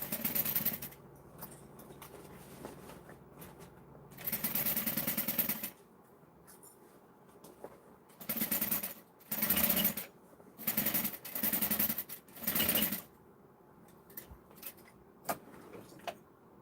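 A sewing machine top-stitches a fabric tote bag late at night in short whirring bursts, some long and some brief, separated by quiet pauses for repositioning.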